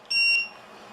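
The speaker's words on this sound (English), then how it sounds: "Makes a beeping noise" A short, bright electronic beep from a fish finder starting up, a single high tone lasting under half a second, followed by quiet background hiss.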